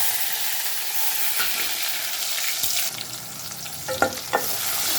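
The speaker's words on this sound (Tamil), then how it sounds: "சின்ன வெங்காயம் போட்டிருக்கிறேன்." Small shallots frying in oil with fenugreek and tomatoes for a Thanjavur tamarind kuzhambu make a constant close sizzle, broken near the end by a few sharp knocks and scrapes of stirring, with no voices.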